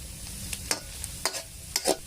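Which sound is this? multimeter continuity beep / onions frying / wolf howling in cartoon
onions frying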